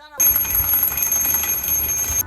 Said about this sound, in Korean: 스마트 알람 기기를 만들어 봤습니다.